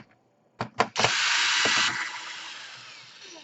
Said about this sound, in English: So you want to unscrew all of them.